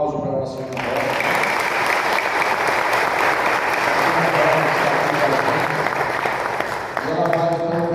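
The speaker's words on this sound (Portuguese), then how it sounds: "um aplauso para a nossa irmã Rod." A church congregation at a Baptist church anniversary service breaks into loud, sustained applause for a church member, a steady wash of many clapping hands that fades near the end as a voice resumes.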